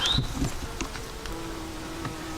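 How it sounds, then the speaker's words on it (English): Bees buzz in the background with a steady drone, some passing closer for a moment, against outdoor ambience on a windy hiking trail, with no talking. "There are bees everywhere."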